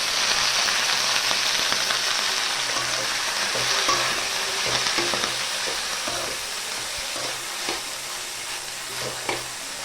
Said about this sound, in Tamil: புதினா இந்த அளவு வறுத்தா போதும்